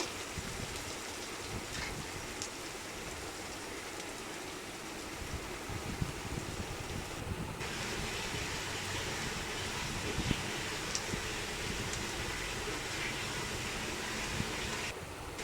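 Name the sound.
dried chillies and onions frying in hot oil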